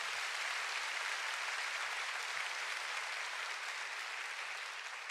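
A church congregation applauds steadily during a sermon, a dense, even wash of clapping that stays constant and moderately distant throughout.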